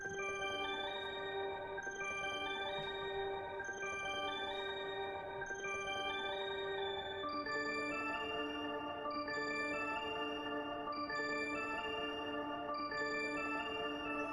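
A bright synth preset, Festivities from Cloud Supply, plays a steady melody of bell-like sustained notes, dry and fairly quiet, with no voices.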